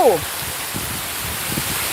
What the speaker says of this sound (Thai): วันนี้ฉันหลบฝนอีกแล้ว